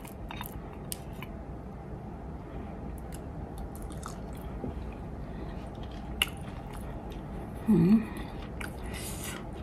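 Soft, close chewing and biting on rice with spicy fermented fish dip, faint intermittent crunches and wet mouth sounds over a quiet room background, with one brief louder moment near the end.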